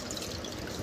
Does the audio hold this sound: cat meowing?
no